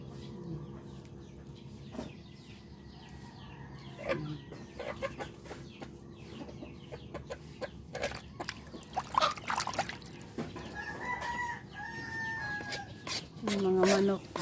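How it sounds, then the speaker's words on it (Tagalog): Chickens cluck and a rooster calls in a farmyard, the sounds coming in scattered bursts at moderate distance while people talk faintly in the background. "Yung mga manok."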